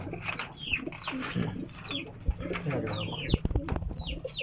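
Pigeons kept in pairs coo softly and repeatedly at a loft, with low murmuring calls layered over a steady background of voices and occasional sharp knocks.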